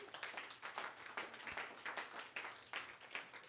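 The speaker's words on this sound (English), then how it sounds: "Somebody clap for Pastor Clive." A church congregation claps for a pastor, with fairly steady repeated claps that sound faint and distant and no voices over them.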